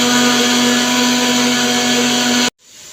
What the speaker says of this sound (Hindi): मैंने पुदीने और धनिए को अच्छे तरीके से, सब्ज़ मिर्च को ब्लेंड कर लिया है।